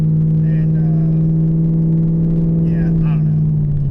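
Pontiac G8 sedan accelerating hard with the throttle feathered, a loud, steady low engine drone with strong harmonics held throughout, pitch easing slightly near the end; a voice talks briefly over it.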